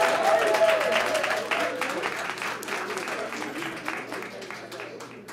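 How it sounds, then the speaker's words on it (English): An audience at a mayor's public safety forum gives a round of applause, a dense crowd clapping that starts strong and gradually thins out, with faint voices in the mix. "why don't you give yourselves a round of applause?"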